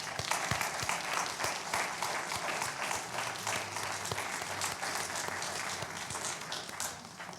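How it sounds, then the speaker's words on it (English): A church congregation applauds its new members with sustained, even clapping from many hands, moderately distant and filling the room for several seconds. "let's give applause for our new members"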